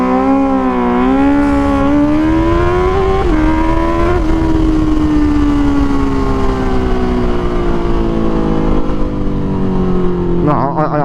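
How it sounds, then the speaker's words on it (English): A Honda CBR 650R motorcycle exhaust sounds continuously while riding, its engine note climbing and falling with throttle changes. A loud, steady tone rides over constant wind rush, with a brief rev blip near the end. "I really love the exhaust on this bike."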